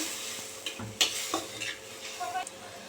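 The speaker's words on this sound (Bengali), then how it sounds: "আদা টমেটো এইভাবে আমি ভেজে নিলাম। এই বাটিতে আমি লঙ্কা, হলুদ, জিরে গুঁড়ো আর ধনা গুঁড়ো নিয়ে নিয়েছি।" Spices frying in a pan with a soft continuous sizzle, punctuated by a few quick scrapes and stirring clatters up close.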